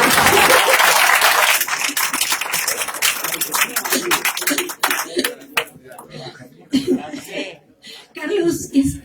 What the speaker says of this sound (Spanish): Y ¿quieren aplaudir?